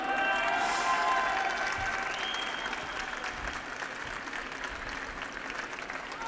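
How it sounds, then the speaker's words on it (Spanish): A graduation ceremony audience gives sustained applause, a dense wash of clapping that starts loud and eases slightly while continuing steadily throughout. "Pido un fuerte aplauso para recibir en el escenario a Rodrigo Zambrano."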